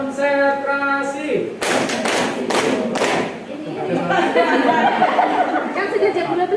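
A group of teachers does the rhythmic tepuk konsentrasi clapping routine, a short run of loud, spaced claps in a patterned beat, with people talking and chuckling before and after.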